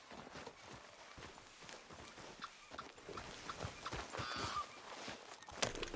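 Horse hooves walking in a video game, steady clip-clopping steps close by under soft ambient background, with a brief louder knock near the end.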